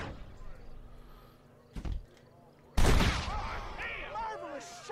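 Gunfire in the Western video game Red Dead Redemption, with a sharp shot followed by a louder blast and ringing, echoing tail, while voices from the game are heard.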